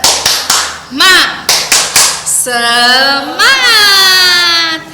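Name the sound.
children doing rhythmic clapping chant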